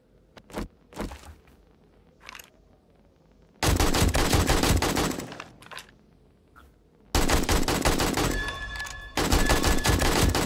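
Automatic gunfire in the zombie survival game 7 Days to Die, with several long sustained loud bursts separated by quieter gaps holding a few single shots and footsteps, close and harsh.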